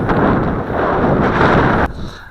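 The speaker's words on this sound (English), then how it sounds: "Pretty hefty wind." Strong wind of about 15 knots buffets a microphone in an open field, a loud, continuous roaring rumble that stays close and heavy before briefly easing near the end.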